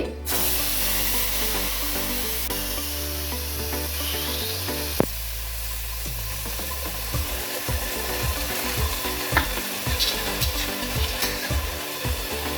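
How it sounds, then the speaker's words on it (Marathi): Ground masala paste (vatan) for Marathi-style kadhi fries in hot oil after the tempering, giving a steady, continuous sizzle with stirring scrapes, close and moderately loud over faint tonal background sound. "आता हे वाटण पैकी असं तेल सुटेपर्यंत फ्राय करून घ्यायचं"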